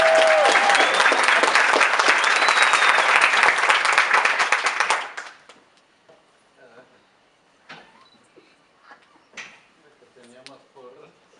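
Loud, dense applause from a graduation-ceremony audience at a university white coat ceremony fills the first five seconds, then cuts off, leaving a quiet room with scattered faint knocks, shuffles and murmurs.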